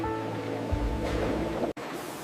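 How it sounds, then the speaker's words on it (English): Potatoes tumbling through a water flume in a potato processing factory, a steady broadband wash of churning water with a low machinery hum, briefly cutting out near the end. "Potatoes enter the flume for initial soil removal"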